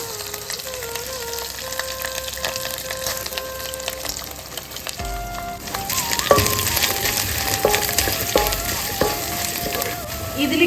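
Mustard seeds crackle in hot coconut oil in a home kitchen while preparing a chickpea roast, a steady frying hiss that grows busier and louder halfway through, with light stirring and utensil clinks and no one talking.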